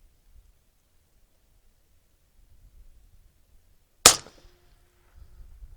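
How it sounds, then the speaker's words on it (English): A single sharp rifle report from a 24-inch bolt-action AR-15, one loud crack at close range with a short decaying tail, set against an otherwise quiet outdoor background. "Okay, first shot."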